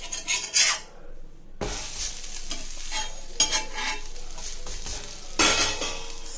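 Vada frying in oil in a pan while being flipped with a spatula, a steady close sizzle broken by scraping and clinks of the utensil against the pan.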